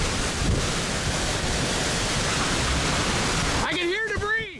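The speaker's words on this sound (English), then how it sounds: "I can hear debris." A tornado's roaring wind fills the air with a loud, unbroken rush as debris flies. A voice begins speaking over it at the very end.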